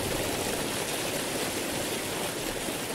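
Steady, dense rushing roar of a waterfall in the dark-fantasy video game Vigil: The Longest Night, continuous and fairly loud with no voices over it.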